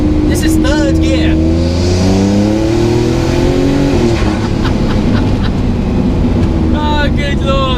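A Lykan Fenyr Supersport hypercar engine pulls hard in third gear, a loud rising roar climbing steadily for several seconds before levelling off, with voices speaking over it.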